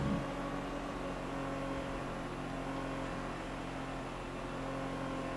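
Engines drone steadily in a GTA FiveM street race among 2016 cars, a minivan custom among the pack, a sustained loud roar with no clear gear changes or pass-bys.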